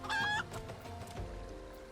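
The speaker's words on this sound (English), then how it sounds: "And a green chicken." Chicken clucking in the video game Final Fantasy XIV: a loud, brief squawking cluck at the start, followed by quieter game music and background sounds.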